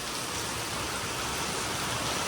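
Heavy, unseasonal downpour on the Konkan coast near Mithbav and the Rameshwar temple: a dense, steady hiss of rain, loud and unbroken throughout, with no voices.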